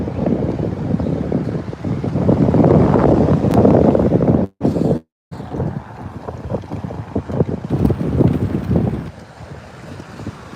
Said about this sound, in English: it just got windy out here